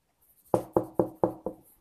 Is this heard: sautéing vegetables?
no